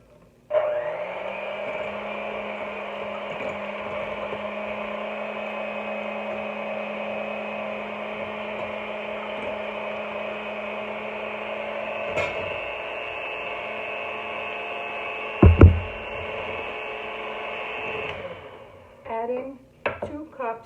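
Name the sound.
hand mixer beating eggs for apple cake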